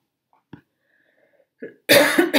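A faint throat sound leads into one loud, harsh cough near the end, close to the microphone, with near silence before it.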